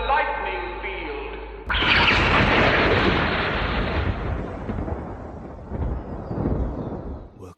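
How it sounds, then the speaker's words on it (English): In a sci-fi alien abduction story, a lightning field is charged and discharged: a held electrical hum cuts abruptly into a huge, roaring thunderous blast that rumbles and slowly fades over several seconds. "Charge the lightning field!"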